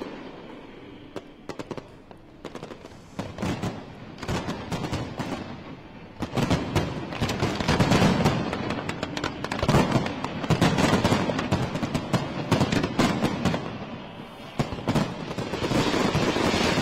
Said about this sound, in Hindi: नए साल 2023 का शुभारंभ हुआ आतिशबाजी के साथ